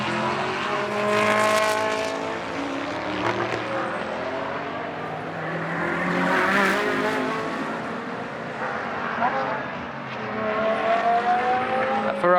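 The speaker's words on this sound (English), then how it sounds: "This is a replay from on board with the 333 Ferrari, kicking up the dust a lot at turn 3." Onboard a Ferrari 333 race car at turn 3 during free practice on a Moscow circuit, the engine roars loud and sustained, rising and falling through the corner as it runs across gravel.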